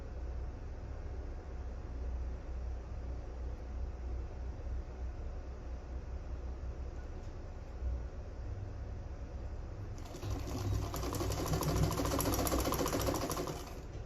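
A sewing machine runs steadily down the seam of a sleeveless gown, a continuous close mechanical whir that grows louder and brighter toward the end, with no voices.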